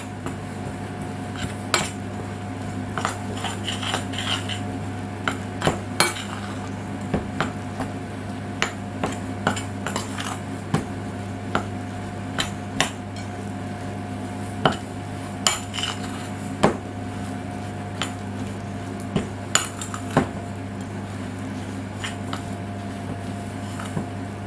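Walnut financier batter is stirred in a bowl with vanilla, the utensil tapping and scraping against the bowl in repeated sharp clicks over a steady background hum for over twenty seconds, with no talking.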